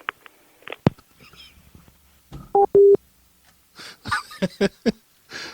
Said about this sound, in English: I'm calling from their home number now.